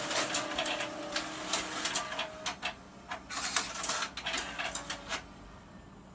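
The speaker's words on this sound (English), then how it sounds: "this is the first print job that's been stapled in this machine." An M602 office printer printing and stapling a page, heard up close as a quiet run of mechanical whirring, clicks and rhythmic feed clatter, with short bursts of paper movement and the stapler mechanism.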